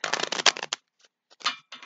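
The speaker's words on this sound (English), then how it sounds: "just shuffling" Tarot cards are riffled and shuffled in quick papery bursts, a longer flurry followed by short pauses and a few more brief shuffles, close up.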